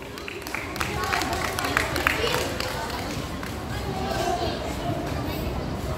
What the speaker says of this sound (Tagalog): O isang malakas na palakpak na Boy Scout